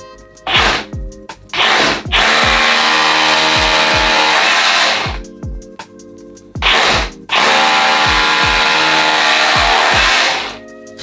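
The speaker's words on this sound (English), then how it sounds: "Just got to drill a couple of holes in." A loud power drill whines in long bursts, starting and stopping a few times with short pauses between runs, close by.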